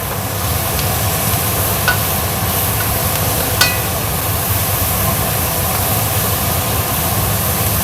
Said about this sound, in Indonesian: Nah, aduk.